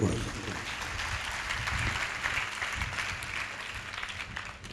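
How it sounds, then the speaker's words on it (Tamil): Church congregation applauding during a Tamil sermon, a dense, steady wash of many hands clapping at once that holds evenly for several seconds before easing off slightly at the end. "கர்த்தருக்கு ஒரு கைதட்டு கொடுங்க"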